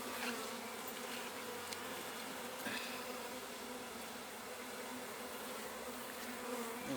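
Honeybees swarm around an opened hive during a spring beekeeping inspection, their buzzing a dense, steady drone close to the microphone with a few faint knocks.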